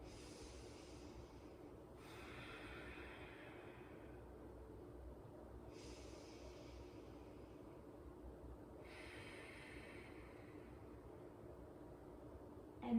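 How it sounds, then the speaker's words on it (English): Slow, audible ujjayi (ocean) breaths drawn through the nose with a slight throat constriction, a soft, ocean-like hiss, repeating in long cycles at a steady, calm pace in a quiet room. "noticing that ocean sound if you create a slight constriction in the back of your throat"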